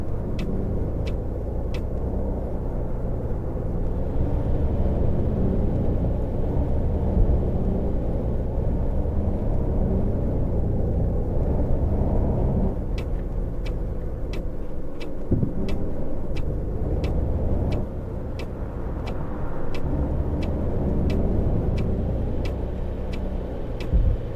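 Tour bus in a driving game pulling away after the handbrake is released, a steady low engine rumble and road drone with a pneumatic hiss, followed by a series of regular ticking clicks.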